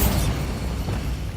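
A Bombarda spell explosion in the video game Hogwarts Legacy, a loud, close, booming burst with a rumbling tail that fills the whole short moment.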